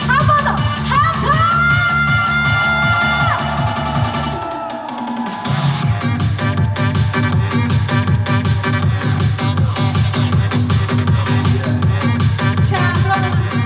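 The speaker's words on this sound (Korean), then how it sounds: "자, 다 같이 한 번 더 함성!" A large outdoor festival crowd at a street festival concert cheers and shouts under loud, steady music, the noise dipping briefly before building back up.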